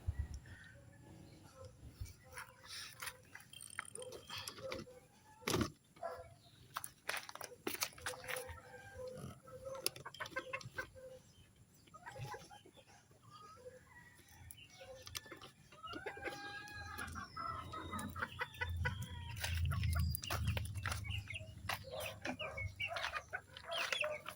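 Pet chickens clucking around their feeding dishes, with repeated nearby clucks and scattered rustling and clatter, plus occasional quiet talk in the background.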